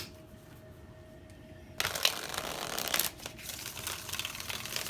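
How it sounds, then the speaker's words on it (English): Tarot cards being shuffled by hand, a quiet close riffling and rustling that starts after a near-silent moment and continues in soft bursts. "So try one more shuffle."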